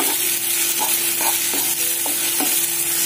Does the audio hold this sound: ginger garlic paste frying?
yes